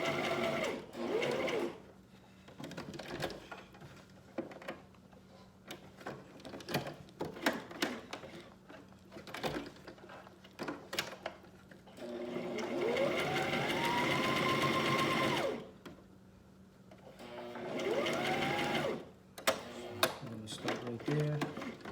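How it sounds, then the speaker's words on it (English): A sewing machine stitching fabric closed, running in several bursts of rapid mechanical whirring with pauses between them, heard up close alongside a speaking voice. "when you stitch it to close it"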